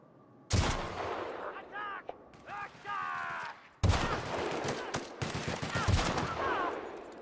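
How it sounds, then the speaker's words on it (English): Gunfire in the video game The Outer Worlds: Spacer's Choice Edition, loud sharp shots and bursts in two main volleys with game sounds in between, and a voice talking faintly under it. "I want to shoot you in the head."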